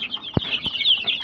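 Native chicken chicks in a brooding setup peep continuously in a high, busy chorus, with a couple of brief low thumps near the start.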